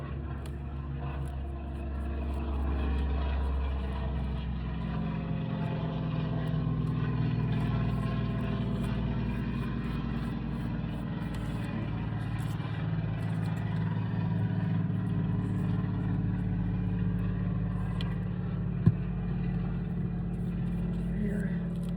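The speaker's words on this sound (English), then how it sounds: "Sorry about the planes." Engine drone from planes flying low near a small-town airport, a steady rumble that swells and lingers throughout, overlapping with a person talking.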